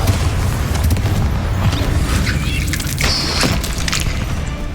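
A Confringo spell explodes in Hogwarts Legacy, a loud booming blast with rumbling low end inside an enclosed mine, its roar continuing for several seconds alongside spell effects.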